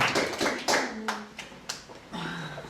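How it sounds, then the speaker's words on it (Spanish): Scattered claps from a church congregation, irregular and fairly close, with a few sharper hits and some faint voices mixed in. "Dale ese aplauso al Señor."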